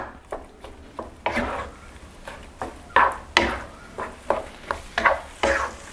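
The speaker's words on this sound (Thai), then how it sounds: "ใส่หมูสับลงไปได้เลยครับ หมูสับที่จะใช้ในวันนี้ก็คือครึ่งกิโลกรัม ผัดคลุกเคล้าให้เข้ากันครับ" Minced pork, half a kilo, is stir-fried with curry paste in a pan over medium heat: a steady sizzle under a series of sharp scraping and clacking strokes from a utensil against the pan, roughly one every half second.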